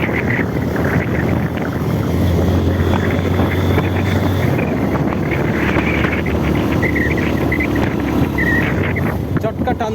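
A vehicle engine labours up a steep hill road at about a 35-degree incline in first or second gear, a loud continuous drone with wind buffeting the microphone throughout.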